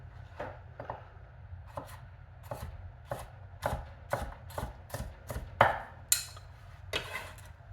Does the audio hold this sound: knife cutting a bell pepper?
yes